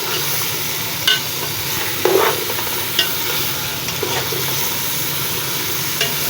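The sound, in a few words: turnips frying and being stirred in pot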